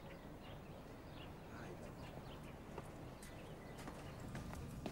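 Horse hooves clip-clop at a steady walking rhythm, moderately near, against a low outdoor rumble, with birds chirping faintly in the background.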